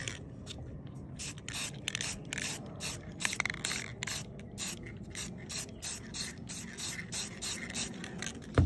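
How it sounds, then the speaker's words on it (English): Rapid bursts of hissing aerosol spray paint onto a wooden bottle opener, short and repeated, with faint rattling and clicking between them, close and fairly quiet. "And I spray it."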